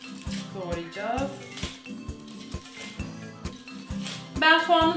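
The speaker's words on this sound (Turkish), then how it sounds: "Ben soğanı doğramayı tercih ediyorum." A knife chops onion on a cutting board in a home kitchen while preparing the sauce for fellah köftesi, giving steady, evenly spaced knocks close by under continuous talking.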